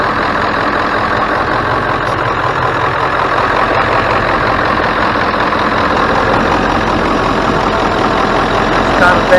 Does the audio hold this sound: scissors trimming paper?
no